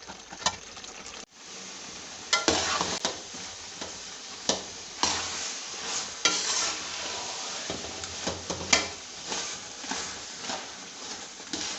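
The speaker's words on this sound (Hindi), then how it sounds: "जब ये काफ़ी हद तक खुश्क होने लगे तो उस दरमियान में मुसलसल चम्मच चलाना है" A spoon scrapes and stirs thickening gajar ka halwa, carrot halwa, in a pan, with a continuous soft sizzle and repeated scraping strokes, close and steady, with no talking.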